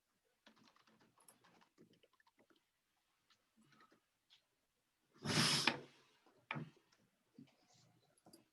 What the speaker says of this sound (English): I'll type out the rest of this while you look for that.